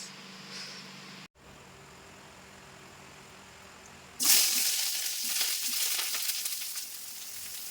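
Ginger garlic paste dropped into hot oil in a home kitchen: a quiet, hissy stretch gives way to a sudden loud, close sizzle that keeps crackling and spitting steadily to the end, with no talking.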